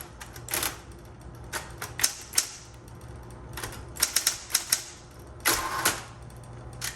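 Keys clack on a 1960s Smith Corona Coronet Automatic 12 electric typewriter in uneven bursts of sharp strikes, with a low steady motor hum running underneath and no voices.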